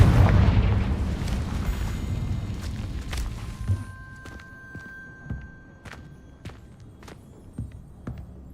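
Confringo fire spell from Hogwarts Legacy bursting in a loud blast at the start, its rumble fading over several seconds, followed by scattered sharp footstep-like clicks and taps.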